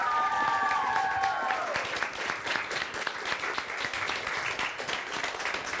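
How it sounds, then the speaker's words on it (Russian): An audience at a televised press event gives warm, sustained applause to welcome a singer, a dense crackle of many hands, with a few high whistling tones at the start. "Бурные аплодисменты,"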